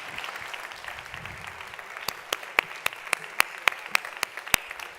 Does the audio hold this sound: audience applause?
yes